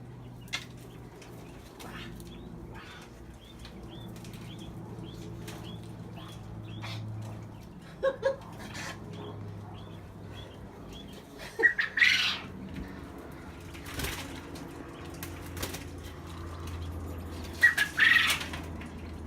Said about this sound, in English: Step 1 to moving the quail cage, catching the quails.